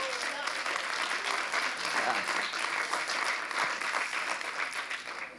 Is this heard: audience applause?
yes